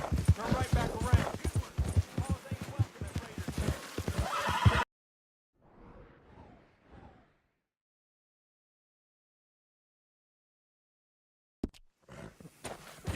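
A horse in Red Dead Redemption 2 neighs and whinnies loudly over quick clip-clopping hooves for about five seconds. Game voices talk over it. A short faint burst follows, then near silence, and brief sounds return at the end.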